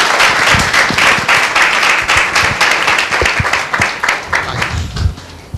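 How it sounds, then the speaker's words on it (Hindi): A church congregation at a Sunday meeting claps loudly in praise, many hands striking in a strong, fairly rhythmic beat, close and vigorous, easing slightly toward the end. "भाई जोरदार ताली दें प्रशंसा के लिए।"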